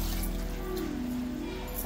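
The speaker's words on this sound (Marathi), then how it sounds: "शिजवासाठी त्याच्यात आई टाकते आता पाणी" Water being poured into a cooking shevla vegetable curry in a village home kitchen, a soft steady pouring close by, briefly and evenly sustained with a faint background hum.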